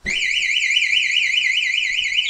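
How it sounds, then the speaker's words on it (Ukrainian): A motorcycle alarm siren wails continuously and loudly, rising and falling in a rapid, steady warble throughout, with no voices. "У вас працювала сигналізація."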